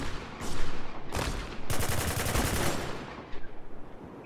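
Rapid bursts of gunfire in the Spec Ops: The Line multiplayer dockside team deathmatch, loud and sharp, with several volleys crowding the first three seconds and then a shorter, fainter staccato run near the end, no talk.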